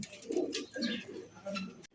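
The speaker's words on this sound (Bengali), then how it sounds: "এখানে রয়েছে আরো এক কালারিং রাসগোল্লা কবুতর" Several Rasgolla pigeons coo in short throaty phrases, close and fairly loud, with three rolling bursts over about two seconds and no talking.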